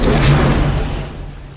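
A Horde Fortress item is deployed in a video game, making one loud, dense thudding burst with a low rumble that fades over about a second.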